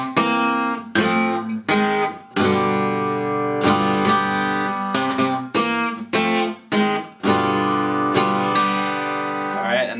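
Acoustic guitar plays the second part of a song's intro, a Delta blues piece: a close, clear run of plucked notes and strummed chords with brief pauses between phrases.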